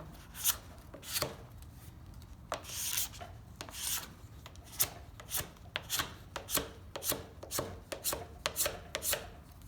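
A scraper works wax off the tail section of a ski in a run of firm, rhythmic strokes, each one a short rasping scrape, close and with no talk.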